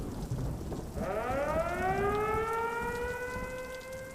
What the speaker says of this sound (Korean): 낡은 사이렌 소리가 희미하게 들려온다며